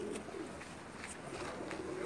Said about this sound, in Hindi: ये ब्रीडर कबूतर है जी इनका